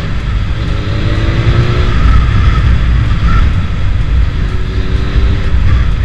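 Honda Hornet 600 (CB600) motorcycle without a catalytic converter, its engine and exhaust heard up close while riding, a steady loud drone with a brief rising rev, no talking.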